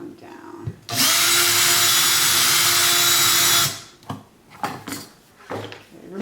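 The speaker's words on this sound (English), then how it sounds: "now I'm going to try to drill a little hole right through here" A power drill bores a little hole through an old book, a loud, steady whine lasting about three seconds that stops abruptly, followed by softer handling knocks and rustles.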